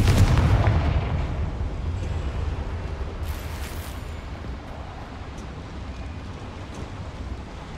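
Confringo fire spell from the Hogwarts Legacy video game bursting into a heavy boom that rolls off into a long, steady rumbling decay, with a brief crackle midway.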